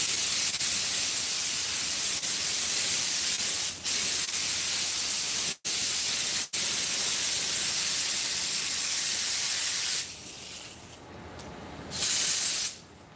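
A spray gun sprays carburetor cleaner in a shop, a loud steady hiss running for about ten seconds with two brief cutoffs, then softer, broken bursts near the end.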